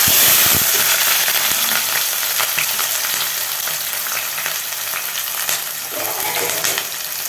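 Green chillies and onion sizzle hard in hot oil in a pan, a loud, dense, continuous frying hiss that sits close and holds steady throughout.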